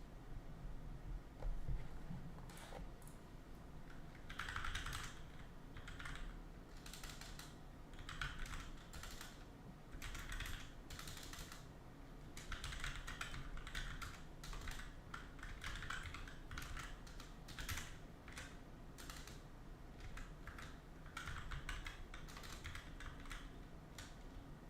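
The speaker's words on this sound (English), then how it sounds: "I use this keyboard, okay? I'm a good typer normally." Steady typing on a computer keyboard, close and clear, with bursts of rapid key clicks separated by short pauses throughout, no voices.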